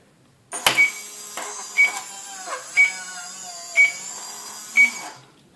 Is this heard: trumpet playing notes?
no